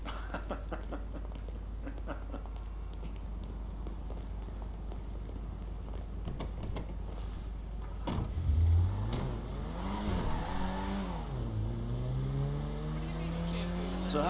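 Car driving in GTA 5 along a Western Highway, a steady engine drone running throughout, with a rising and falling rev swell around the middle and voices talking over it.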